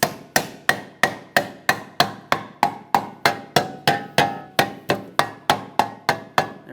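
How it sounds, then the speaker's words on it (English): A rubber mallet taps a brake backing plate (dust shield) into place on a 2003-2007 Honda Accord front hub, making about twenty evenly spaced, close, dull knocks in a steady rhythm with no talking. "We're using our rubber mallet so we don't scuff it in any way."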